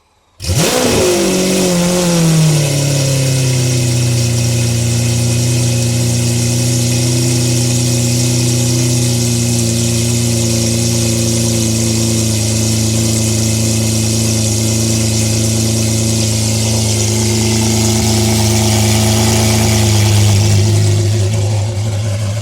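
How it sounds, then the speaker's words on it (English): A wrapped car's engine cold-starts with a sudden loud catch, flares high briefly, then settles into a steady, loud, droning fast idle that holds for about twenty seconds. "let's get a cold start because I gotta let it warm up, anyways."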